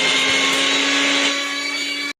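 A mixer grinder grinds onion, clove and cinnamon masala paste in a loud, steady high-pitched whir with a constant motor hum, running alone until it cuts off abruptly at the end.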